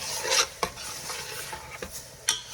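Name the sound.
stirring minced beef frying on high flame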